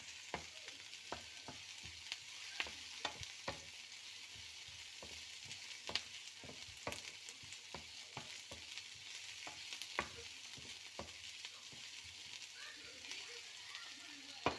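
Onions fry in a pan for onion rice, a steady close sizzle with scattered sharp crackles and pops throughout, no talking over it.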